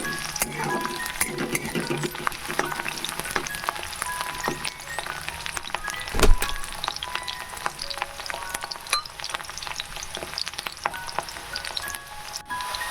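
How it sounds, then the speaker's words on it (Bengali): Capsicum sizzling and being stirred in a hot pan for veg chow mein, a steady close frying hiss with scraping stirs and a sharp knock of the utensil midway. "ক্যাপসিকামগুলো দিয়ে দিলাম। ক্যাপসিকামগুলো হালকা একটু নেড়ে নেব।"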